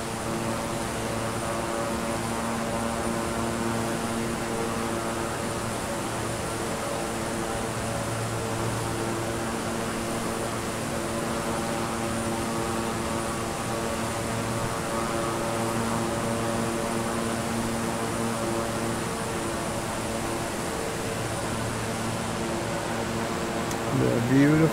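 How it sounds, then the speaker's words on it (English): Twin turboprop engines of a Beechcraft King Air 350i drone steadily in Microsoft Flight Simulator, a constant layered hum with a whining tonal edge, held at an even level throughout. "The beautiful King Air 350i. I love this plane."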